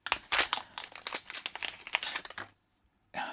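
Plastic anti-static bag crinkles and rustles while being handled, a busy close crackling for a couple of seconds that stops abruptly, then a brief crinkle returns at the end.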